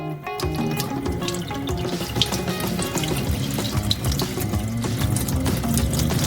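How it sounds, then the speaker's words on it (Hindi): Cold water pours steadily from a tap into a flask, a continuous splashing, gurgling stream close by with no talk. "इसे काम करने के लिए इसे बहुत ठंडे पानी से"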